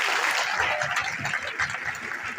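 An audience applauding at an awards ceremony, a sustained patter of many hands clapping with a few louder swells, steady and moderately loud, without speech.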